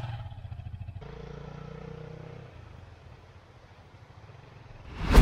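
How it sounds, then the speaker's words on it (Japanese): A trailer van's engine starts and settles into a low, rough idle rumble on a mountain pass in Hokkaido, followed by a short loud burst of noise at the end. "おい、エンジン、始動。"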